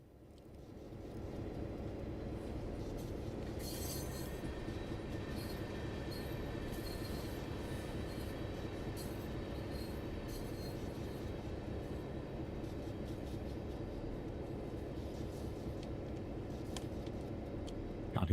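A Rio Grande train in Train Simulator rolls steadily along the rails with a continuous low rumble, rhythmic wheel clatter and occasional high squeals, heard alone at a moderate, even level.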